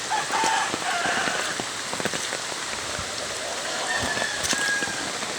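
Steady rain falling on a surface during flooding, with scattered drops pattering close by and a rooster crowing faintly in the distance.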